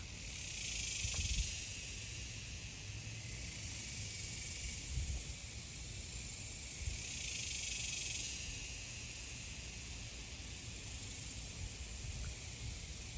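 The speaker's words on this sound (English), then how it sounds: "For me, it's these sounds of these insects that reflect summer memories." Summer insects, likely crickets, chirp in a steady, continuous high-pitched wash that holds for the whole stretch, fairly faint and unbroken, with no voices.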